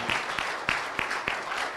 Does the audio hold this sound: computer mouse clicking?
no